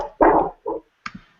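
A dog barks nearby in a short burst: one loud bark, a second shorter one, then a faint yip, each separated by brief silence.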